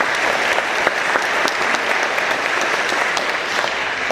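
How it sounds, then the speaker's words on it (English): Audience at a Rotary Club weekly meeting giving a round of applause, dense clapping with distinct sharp hand claps standing out, sustained evenly across the whole span. "I'm going to give you a round of applause"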